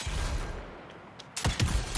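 Gunfire in a Wild West action video game, with two or three sharp loud shots near the end following a quieter stretch of game ambience.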